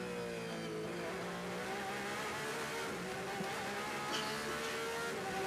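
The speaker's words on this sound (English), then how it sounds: "2 Porsches there running down behind the Ford of Joey Hand" Porsche and Ford race cars at the 2017 24 Hours of Le Mans, engines whining at high revs as they run close together, a dense continuous roar heard from trackside at a steady level.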